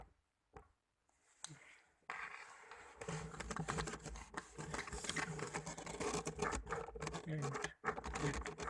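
A small mini sewing machine runs steadily after a brief start, its needle pumping up and down in a fast, even mechanical patter, close and fairly loud, with a voice speaking briefly at the beginning.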